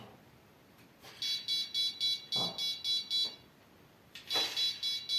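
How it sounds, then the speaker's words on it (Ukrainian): Hirisi S5 4+1 carp fishing bite alarm pager sounding its red indicator tone, a fairly quiet series of rapid, evenly spaced electronic beeps in two bursts separated by a short pause, with a brief handling knock between them. "Зараз буде тільки звук в пейджері."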